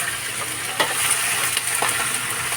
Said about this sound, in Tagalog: Lagay ko na yung buto-buto. Gigisa ko lang ng konti